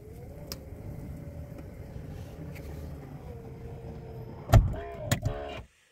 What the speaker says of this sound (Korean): 차 문을 닫겠습니다.